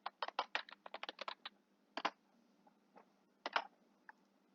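Bursts of typing on a computer keyboard entering a word list into spreadsheet software, quick clustered keystrokes followed by a pause and a few more short runs, close and clear with no talking.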